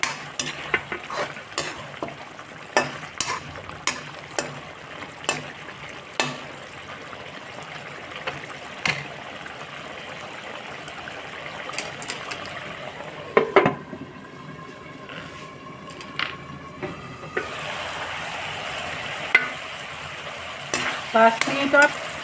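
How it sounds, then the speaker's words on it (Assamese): Potatoes frying in a pan over a high gas flame for chicken curry, a steady loud sizzle broken by repeated clacking strokes of a spatula as they are stirred, with a brief lull in the scraping midway. "মই পুনৰ এবাৰ আলুখিনি লৰাই দিছোঁ"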